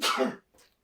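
A single close, loud sneeze-like burst from a person, followed after a short pause by a quieter second breathy burst.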